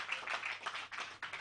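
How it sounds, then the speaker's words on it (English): A crowd of audience members claps for the President, a brief burst of moderately distant, uneven applause with a few short gaps. "I think we should clap for Mr. President for doing this."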